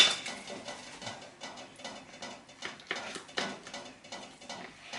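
Plastic cling film peeled off a blueberry dessert, a run of soft crinkling and crackling bursts with light clinks of dishes, close and moderately quiet with no voices.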